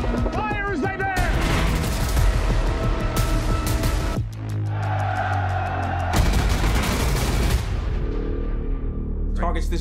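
Naval gunfire from a World War II destroyer, heavy booms and rapid cracking shots over a dramatic score, with a loud salvo near the start and another burst later on, and voices speaking between the volleys.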